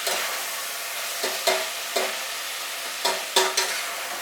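Bacon chunks fry in hot oil with a steady, close sizzle, while a handful of sharper scrapes and clacks from stirring land at irregular intervals.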